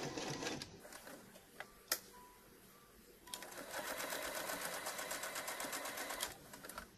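A sewing machine runs while stitching a cloth mask, with a short burst at the start, some clicks and handling, then a long steady mechanical whirring run that stops near the end, close and moderately loud.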